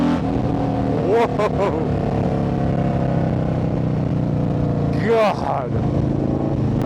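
A Harley-Davidson motorcycle accelerating hard on a ride, its loud engine roar steady and close, with a rising rev near the end and a rider's excited shouts over it.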